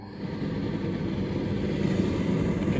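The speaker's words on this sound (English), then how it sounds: "If you can hear the fan, it means the motor's working." Steady low mechanical hum of an Indesit condenser tumble dryer's motor and fan running continuously, moderately loud and even throughout, with no voices.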